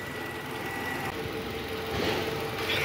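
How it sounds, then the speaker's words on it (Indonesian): A Toyota Camry 2.5 engine idling steadily and evenly after its worn balancer shaft was replaced, a constant close low hum with a slight swell near the end, no voices. "Jadi suara mesin 2 air ini sudah kembali normal seperti mesin Camry pada umumnya."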